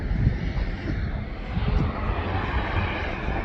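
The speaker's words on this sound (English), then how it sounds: "we've had a 2E Dreamliner land." A steady, loud roar of jet aircraft engines at Manchester Airport as a Dreamliner lands, a broad continuous rumble filling the air from a viewing park, with no speech over it.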